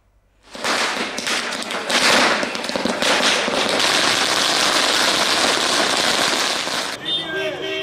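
Long, dense rattle of firecrackers bursting continuously at a party workers' celebration in Melur, Madurai, loud and close for several seconds before stopping abruptly.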